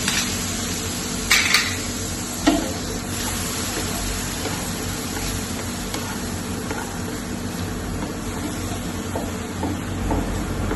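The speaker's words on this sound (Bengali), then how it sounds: "জল দিয়ে ধুয়ে নিচ্ছি।" Water runs steadily while something is washed in a kitchen during aloo dum preparation, with a few light clinks of utensils against a pot early on and a continuous broad wash of noise throughout.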